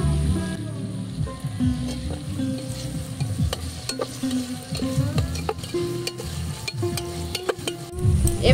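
Ginger garlic paste sizzles and fries in a pan while being stirred, steady close crackle with repeated scraping clicks of the spoon throughout.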